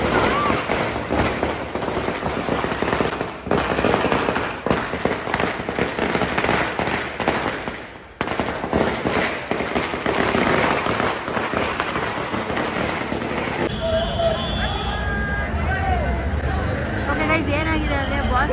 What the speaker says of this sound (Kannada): ಬಾಸ್ದು ಅದು ಪಟಾಕಿ ಹತ್ತುವಾಗ ದರ್ಶನ್ ಸರ್ದು ಇದು ಕಟ್ಟೌಟ್ ಬೆಂಕಿ ಹತ್ಕೊಂಡ್ಬಿಡ್ತು.